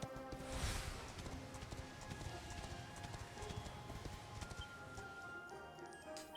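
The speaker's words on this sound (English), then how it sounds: "I can just call my horse with this." A horse in the Dragon Quest XI S video game trots along with a steady clip-clop of hooves, moderately loud and continuous, under a faint game background.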